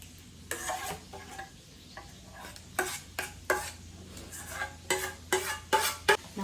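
A crispy roasted potato salad with greens being tossed with sauce in a bowl: soft scraping and clinking strokes in an irregular rhythm, growing into sharper, louder taps near the end, with no talking.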